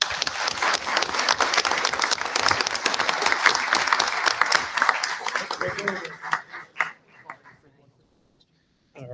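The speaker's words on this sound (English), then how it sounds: "let's please give them a round of applause." An audience at a board of education meeting applauds loudly, a dense clatter of many hands that holds for about six seconds and then thins into scattered claps before falling silent.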